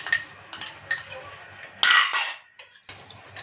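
Mango pieces are mixed into Ugadi pachadi in a bowl with a spoon, giving close clinks and scrapes of metal on the dish in an uneven rhythm, with brief louder stirring bursts.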